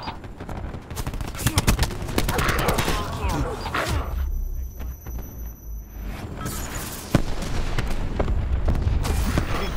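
Heavy gunfire in Call of Duty: Black Ops 4, with rapid bursts of shots and booming impacts throughout and a short lull in the middle, while voices talk over the action.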